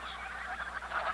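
Faint, distant nasal honks and calls from a flock of young geese over a steady low background hiss, several overlapping cries.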